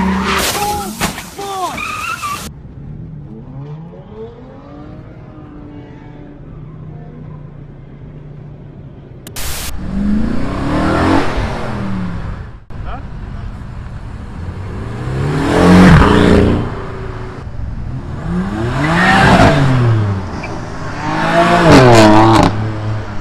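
Cars leaving a car meet rev hard and skid, with repeated loud engine surges and screeching tire bursts, some close and some farther off, separated by quieter idling stretches.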